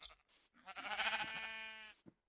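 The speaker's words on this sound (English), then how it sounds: "Oh, black sheep." A single sheep bleats in the video game Minecraft: one drawn-out, wavering bleat framed by a few short clicks. Fairly quiet, with no voices.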